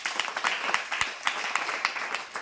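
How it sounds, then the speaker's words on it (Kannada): Audience applause at a spiritual discourse on scientists, a dense crackle of many hands clapping steadily for the whole stretch, fairly close and with no talk over it. "ಹೊಡ್ರಿ ಚಪ್ಪಾಳೆ."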